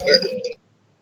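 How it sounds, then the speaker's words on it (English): A single short burp from a person at a tabletop Starfinder game session, close and fairly loud for about half a second, then silence. "Burp."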